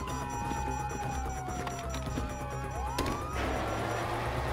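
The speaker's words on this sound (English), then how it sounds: "you hear that? Sirens." Wailing police sirens in Grand Theft Auto V sweep up and down in pitch over a dense background of engine rumble and noise, loud and continuous.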